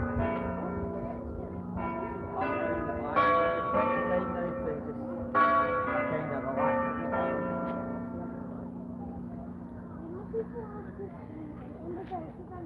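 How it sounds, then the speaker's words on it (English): Church bells of Paisley Abbey ring out in a layered peal during a walking tour, strong clustered strikes for the first eight seconds, then fading into a lingering hum under ambient street noise. "More bells."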